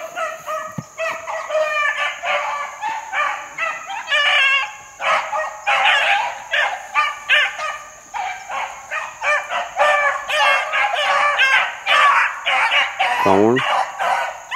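Pack of hunting dogs named Bruiser, Sarge and Major barking and yipping on a scent track through briar thicket, a rapid run of overlapping barks at moderate distance with someone talking at times.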